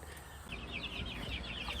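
Young Cornish cross chickens cluck and peep in a steady run of short, high calls, close by and continuous, with no talking.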